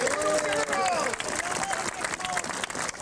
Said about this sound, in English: I want you to give your warmest applause to Sammy Eisenhower